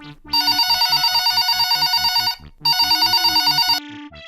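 Loud electronic telephone bell ringing in a rapid pulsing trill, two long bursts separated by a short pause, close and alone with no talk.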